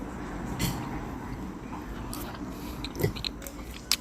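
Someone bites into a chicken shawarma wrap and chews, producing soft close crunches and mouth sounds, with a couple of sharper crisp bites near the end over a quiet background hum.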